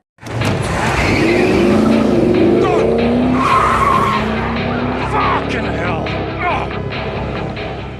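A car skids with a long tire squeal through a sharp maneuver during a movie chase in heavy traffic, loud and sustained under engine roar and crashing effects, with a voice narrating over it.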